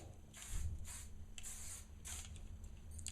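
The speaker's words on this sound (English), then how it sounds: "So I spray that good all over." Several short hissing bursts of aerosol spray, close by, separated by brief pauses, with no talking.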